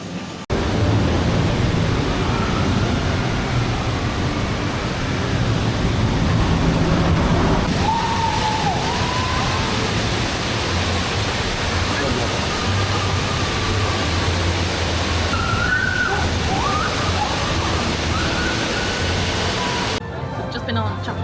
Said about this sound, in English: Just been on Chiapas, which is a log flume.